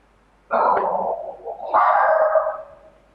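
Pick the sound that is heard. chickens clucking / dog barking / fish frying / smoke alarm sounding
dog barking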